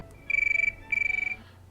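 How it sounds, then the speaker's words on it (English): Telephone ringing in two short electronic trilling bursts separated by a brief gap, close and clear over a quiet background. "Oh, that'll be Alec crying into the phone again"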